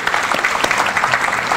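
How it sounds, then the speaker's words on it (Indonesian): Brief burst of loud crowd applause welcoming a speaker at a political talk, many hands clapping close together in a dense, steady roar. "Tepuk tangan gemuruh untuk Babe Ridwan"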